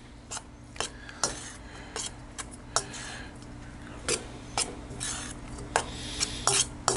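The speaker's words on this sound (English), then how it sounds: "I'm going to start giving a little mix." Blue crab stuffing being mixed in a bowl, sharp clinks and scrapes of a utensil against the bowl recurring irregularly over a low steady hum, with no talking.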